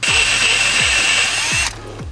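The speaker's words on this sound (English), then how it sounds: "when we drill, the metal flakes are just gonna get embedded in the grease" A power drill bores into greased metal on a Nissan Silvia S14 with an SR20DE engine during a turbo install: a loud, close, continuous grinding whir that cuts off abruptly near the end, leaving quieter background noise.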